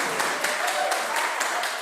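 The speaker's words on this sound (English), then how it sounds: "clap right now" An audience in a church sanctuary breaks into steady applause on cue, a dense wash of many hands clapping at moderate distance throughout.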